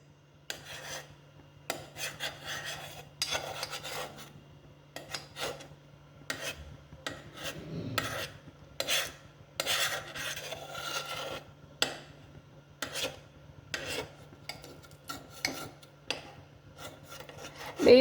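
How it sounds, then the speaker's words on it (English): Gelatin culture medium being stirred in a container, giving a continuous rough scraping and rubbing against the vessel in uneven strokes, close and fairly quiet with no speech. "I'm still stirring my medium, and the gelatin that was present in it has melted"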